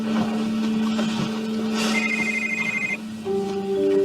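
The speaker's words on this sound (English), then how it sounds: "That's my phone." A telephone rings with a steady electronic tone over a busy background, followed by a higher ringtone pattern toward the end; no one talks.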